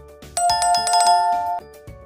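A notification bell sound effect chimes once, bright and tonal, and holds for about a second before cutting off, clear and alone.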